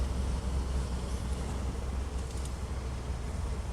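A Hyundai The New Grandeur's 2.5 Smartstream GDI engine idles nearby with a steady, low rumbling drone and faint mechanical noise on top.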